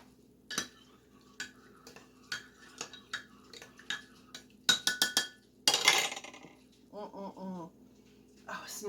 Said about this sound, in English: Then we're going to stir it.